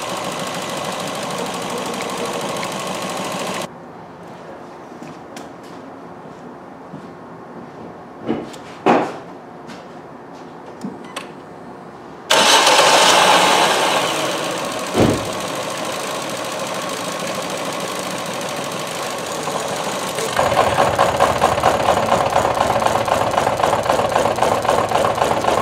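Ford C-Max 1.6 petrol engine from 2017, with a fault on the ignition coil circuit, idles close by with a steady hum, interrupted by quieter stretches, clicks and knocks, then returns with a rougher, buzzier running note.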